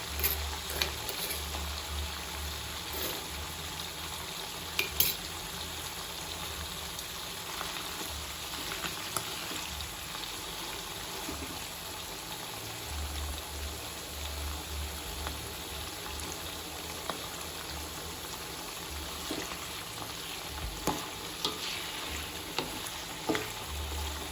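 Squid with green chilies and petai fries in a wok in hot oil, making a long steady sizzle with occasional clinks and scrapes of a utensil, close and uninterrupted by speech.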